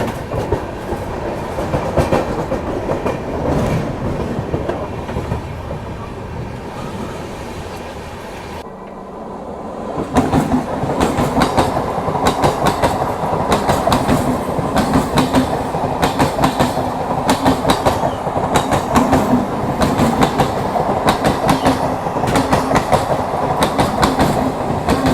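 Aboard the New Delhi Howrah Duronto Express near Liluah station, loud continuous rumble with rhythmic clickety-clack of wheels on rail joints, briefly dipping before swelling again as it passes another standing train.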